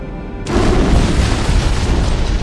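In Halo: Combat Evolved, an antimatter charge detonates on a ship: a sudden loud boom that swells into a long, dense roar filling the space, with no speech.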